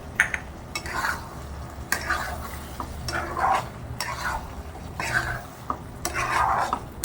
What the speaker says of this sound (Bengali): তরকারিটা পুরো মিশিয়ে দিচ্ছি।